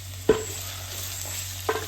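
Ginger, onion and green chili frying in hot coconut oil for puliyinji, a low steady sizzle broken by two brief clinks or scrapes of stirring, with no voices.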